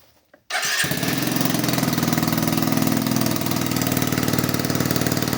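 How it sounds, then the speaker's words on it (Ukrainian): A Yamaha Jog SA36 scooter with a holed muffler starts after a brief silence and runs steadily, a loud, raspy, close two-stroke putter that holds a constant idle to the end. "пробитий глушитель. Але він працює."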